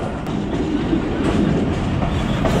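Mehar Express train rolling into Muzaffargarh station, a steady loud rumble of wheels and carriages with faint clickety-clack running continuously throughout, no voices.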